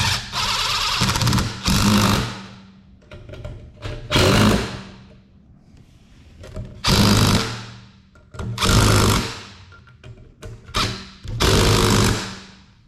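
A 1st-gen Dodge D250 Cummins truck's bolts being run down in a crisscross pattern during a HydroBoost conversion with a power tool, producing six loud close bursts of buzzing rattle separated by short pauses.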